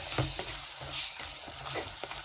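Turmeric is stirred in a pan for a Kerala coconut-milk fish curry. Close sizzling frying runs throughout, and rhythmic scraping strokes of a spoon against the pan mark the stirring.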